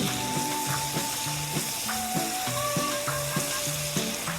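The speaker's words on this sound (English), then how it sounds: "just stir them around so they're a little sauteed" Green peppers sauté in a hot pan for fish fajitas, giving a steady, close sizzle that runs unbroken with soft stirring movements.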